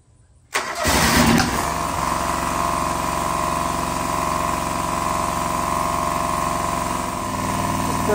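A John Deere 425 lawn tractor engine cranks briefly and catches after about half a second of near silence, then settles into a loud, steady idle that runs on to the end without talk.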